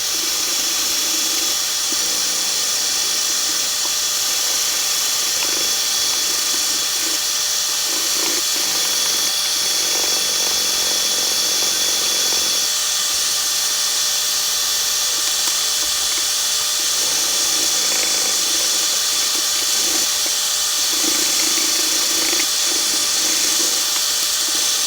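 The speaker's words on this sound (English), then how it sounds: "So I'm going to take a little bit of 80 grit first of all and take that out." Hand sanding with 80 grit abrasive on a yew wood spoon, a steady dry scratchy rasp that continues for most of the stretch, close and fairly loud with slight shifts in stroke intensity.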